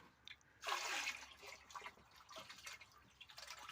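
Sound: pouring liquid fertilizer solution onto pepper plants

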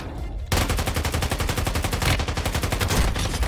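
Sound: gunfire from the starting gun in Warzone Mobile (video game)

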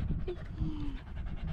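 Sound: dog panting excitedly

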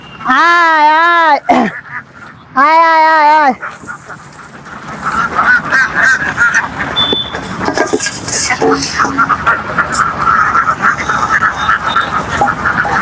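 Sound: Campbell ducks quacking on a duck farm

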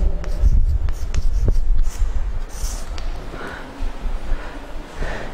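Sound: writing a theorem statement on a board

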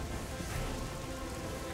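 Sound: rain effect in video game Orion: Prelude

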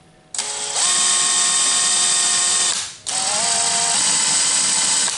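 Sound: power drill spinning a cable

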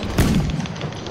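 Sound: cannon firing in Battlefield 4 video game

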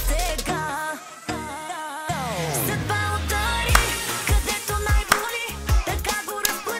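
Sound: Bulgarian pop folk (chalga) music playing

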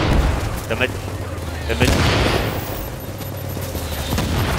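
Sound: gunfire in a video game

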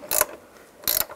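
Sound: ratchet tightening door hinge bolts

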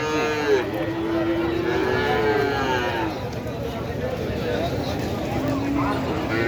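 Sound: cattle mooing at a cattle market

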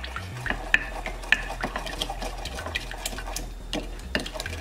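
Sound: stirring pumpkin seeds with cayenne pepper

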